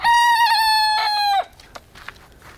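A silkie rooster gives a single loud, close crow lasting about a second and a half, then fades into quiet outdoor background.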